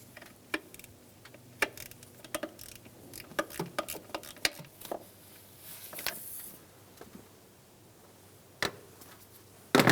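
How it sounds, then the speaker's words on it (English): A hand ratchet loosens 10mm bolts on a 2003-2008 Honda Pilot's vapor canister purge solenoid valve, giving quick irregular clicking bursts and taps, close but fairly quiet, without speech. "Remove the bolts."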